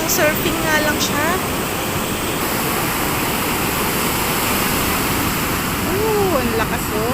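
Loud, continuous roar of big ocean waves crashing and surging at Baler, Aurora, with voices and a few faint whistle-like tones above the wash.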